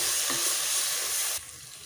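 Spice powders frying in oil in a pan before mushrooms go in for mushroom rice: a brief, close, steady sizzle that drops off sharply near the end.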